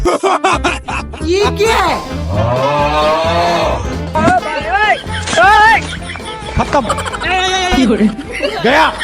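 A loud, drawn-out cow moo stands out amid lively nearby voices, with people talking and chuckling around it.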